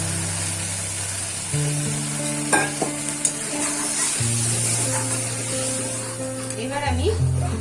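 Masala for pabda fish with poppy seed paste sizzles and hisses loudly in a pan as a little water is added, the frying crackle flaring into bursts of steam with stirring and clinks throughout.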